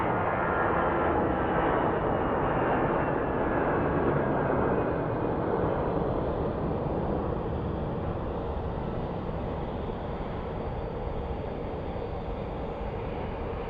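At night an airliner departs Phoenix Sky Harbor Airport with a broad distant jet roar that slowly fades as it climbs away, steady and without talk.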